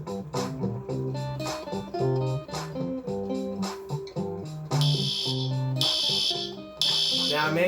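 During a school fire drill, the fire alarm is heard as a series of loud, repeating electronic tones. A bright, high-pitched pulse breaks in near the end.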